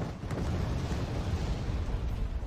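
Bombs from an F-4EJ Kai airstrike in Wargame: Red Dragon explode in a dense, continuous low rumble of blasts, loud and sustained throughout without voices.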